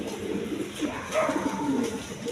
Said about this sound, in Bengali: এই যে মাদিটা একদম অরিজিনাল লাহুরি কবুতর